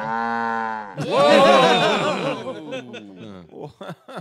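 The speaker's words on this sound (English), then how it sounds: "Alexa, what's a cow sound like?" A cow moo played by a smart speaker rings out loud and drawn-out with a strong harmonic sound, following a short voice, then fades into a few quieter bursts and a brief chuckle.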